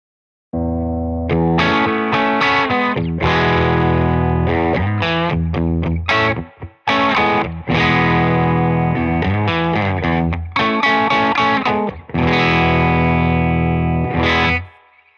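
Electric guitar played through a Rainger FX Chop Noise Limited Edition fuzz pedal, heavily distorted and gated, with loud choppy bursts of chords and notes cutting off sharply between phrases, alone without speech.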